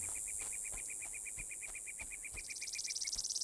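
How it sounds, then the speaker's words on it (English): Loud cicada in the video game Betrayer, a steady rapid pulsing buzz repeating evenly through the scene and swelling into a louder rattling trill near the end, alone with no talk. "That is a loud cicada."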